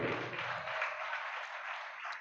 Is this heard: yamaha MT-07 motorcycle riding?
no